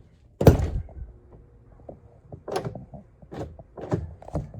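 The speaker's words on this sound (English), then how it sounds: "when I open the door" The sliding side door of a 2021 Ram Promaster 159 van is worked close up, giving a sharp thunk followed by scattered rattles, clicks and knocks from its moving parts, with no talking.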